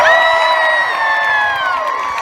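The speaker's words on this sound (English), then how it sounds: "I want to hear what level 2 round of applause sounds like." Renaissance fair crowd at a KamiKaze FireFlies show cheering loudly, with sustained shouts and whoops that start strong and slowly taper, close and dense.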